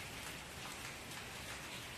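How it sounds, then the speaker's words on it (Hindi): Heavy rain pours down outdoors in a steady, dense hiss of drops hitting surfaces, continuous and even throughout with no voices. "अभी इधर बारिश हो रही है"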